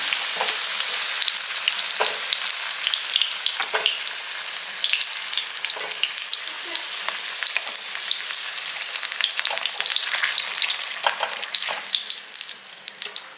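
Eggplant frying in hot oil in a pan, with a steady, dense crackling sizzle throughout and occasional sharper pops and stirring scrapes, close and loud, with no talking.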